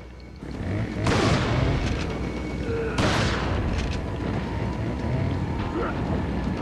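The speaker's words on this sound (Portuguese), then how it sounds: "Explode tudo, pô." Two heavy explosions boom in Resident Evil 4, each a sudden loud blast that decays into rumbling over steady game noise.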